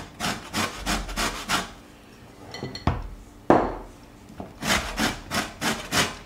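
A lemon scraped on a metal box grater to zest it, giving repeated rhythmic rasping strokes, close and clear, with a few scattered knocks and a pause midway, no talking.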